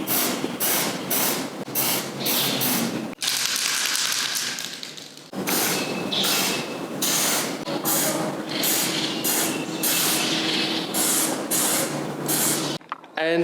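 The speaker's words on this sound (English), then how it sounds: "it's a self-etching weld-through galvanizing primer" A spray can applies self-etching zinc weld-through galvanizing primer to a bullbar for a Toyota Hilux, the hiss coming in bursts of quick short sprays and a few longer continuous ones, fairly close.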